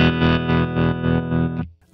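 Distorted electric guitar chord pulses through a Coppersound Loma Prieta tremolo pedal set to a slow sine wave at deep depth, swelling about seven times before cutting off, loud and alone.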